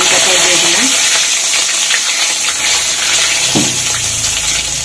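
Curry leaves, black mustard seeds and cumin hit hot oil in a home kitchen pan, giving a loud, steady crackling sizzle with a few sharper pops and faint stirring throughout.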